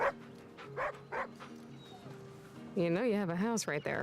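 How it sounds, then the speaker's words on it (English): A husky dog barks in a video game, several short yips and barks spaced out over a steady background, followed by a person talking and a whimpering, howling dog sound. "That's a husky."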